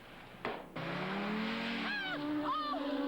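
A car engine winds up and speeds, its pitch climbing steadily, with whistling, squealing tones sliding over the roar near the end, moderately loud and close.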